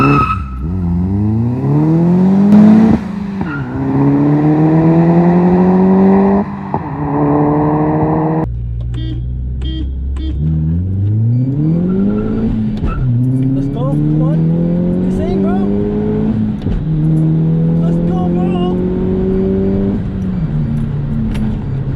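Turbocharged 215 brake horsepower Mitsubishi Colt accelerating hard from inside the cabin, the engine note climbing through gears with short dips at each shift, loud and continuous, while people talk over it.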